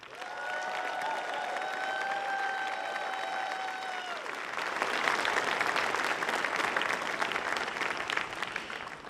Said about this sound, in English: I would love to get a big round of applause for our 3 guests of honors this year